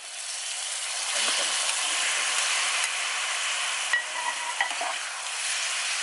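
Chicken blood and basil stir-fried in a pan make a steady, close sizzle with scraping stir strokes and brief clatters of a utensil, heard alone without talk.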